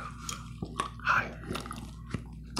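Gum being chewed close to the mic in a quiet indoor ASMR setting, soft wet smacks and small clicks at an irregular pace, with faint handling noises and no talking.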